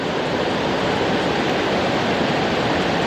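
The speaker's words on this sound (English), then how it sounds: "I don't want to get too close to these rapids." River rapids rushing in a loud, steady, broadband roar close at hand, water churning without any pause or other sound breaking through.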